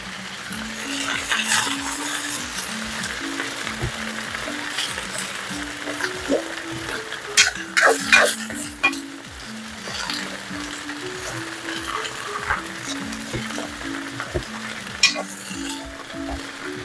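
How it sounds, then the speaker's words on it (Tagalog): Saluyot (jute) shoots stir-fry in a pan with a constant close sizzle, while a utensil scrapes and clinks against the pan in an uneven rhythm. A faint low tone runs beneath, and nobody speaks. "At isusugod na natin syempre ang ating mga talbos ng saluyot."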